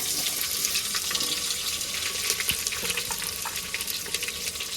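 Onions drop into a hot frying pan with mustard seeds and curry leaves, setting off a continuous, close hiss and sizzle with small crackles and faint stirring.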